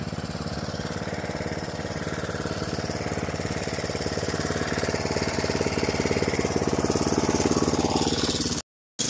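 A DR 26 Premier brush mower runs steadily, its engine giving a loud, continuous rapid knocking drone that builds slightly before cutting off abruptly near the end.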